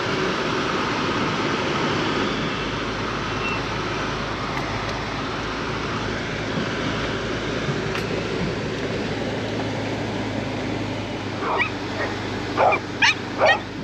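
Choco, a female dog, gives a quick run of short yips and whimpers close by near the end, over steady outdoor background noise.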